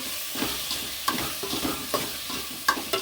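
Tomatoes with salt sauté in a pan for a soya chunk curry, giving a steady soft sizzle punctuated by several scraping stirs of a spoon, close and fairly quiet.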